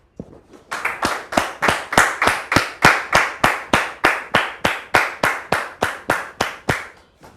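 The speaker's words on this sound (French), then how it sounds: "maintenant sous vos applaudissements" A small audience claps in a steady, evenly spaced rhythm, welcoming a guest brother onto a religious programme; about twenty crisp, loud claps in unison run alone from start to finish with no talk.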